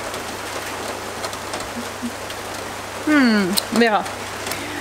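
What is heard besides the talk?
thunderstorm rain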